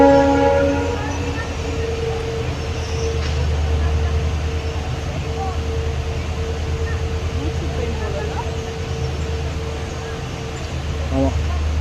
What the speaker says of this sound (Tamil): அங்கே வந்து ட்ரெயின் போகுது பாருங்கள் மேலே.